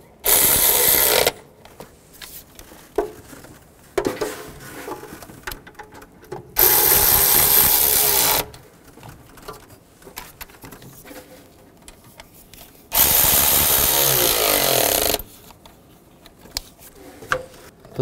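A power tool tightens bolts during a water pump replacement on a 2010-2017 Chevrolet Equinox, in three loud bursts of a few seconds each separated by quieter clinks and handling noises.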